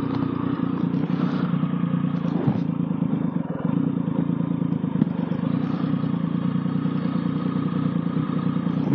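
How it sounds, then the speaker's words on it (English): Motorcycle ridden through Harz National Park with its plastic fairings rattling and clattering together over a steady, loud engine and road drone, continuous throughout. "Pretty sure it's just the fairings clattering together."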